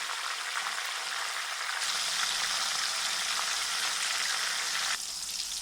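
Green chillies frying in hot oil in a kadhai, a loud, close, continuous hiss and crackle that swells into a fuller sizzle partway through, then eases slightly near the end, with no voices.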